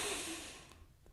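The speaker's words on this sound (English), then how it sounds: "nice deep breath" A single deep exhale during a Tai Chi routine, one soft breathy rush that fades out over about a second, heard close with no talk.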